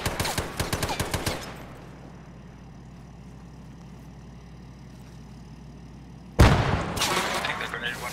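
An Arma 3 firefight: a rapid burst of gunfire opens, then a low engine drone hangs under the scene until a sudden loud grenade blast hits near the end, followed by more noisy combat.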